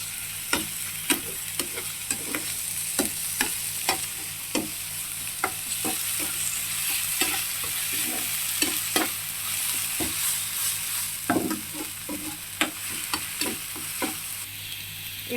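A spatula scrapes and taps repeatedly through fish curry masala made with poppy seed, cardamom, clove and cinnamon paste, stirring it in a pan over a soft background sizzle; the strokes are close and irregular.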